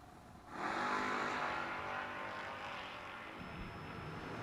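Drag racing cars launch down the strip at a footbrake drag race, with a Nova and a truck on the line: a sudden loud roar of engines surges and then holds as a sustained, heavy drone.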